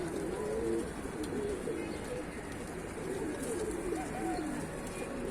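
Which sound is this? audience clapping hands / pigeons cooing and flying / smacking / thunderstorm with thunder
pigeons cooing and flying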